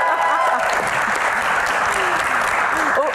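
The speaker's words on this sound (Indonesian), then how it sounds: "Tepuk tangan." Audience applause for a panelist at a live Q&A comedy show, a loud, dense and continuous crowd clapping that holds steady throughout, with faint cheers rising near the end.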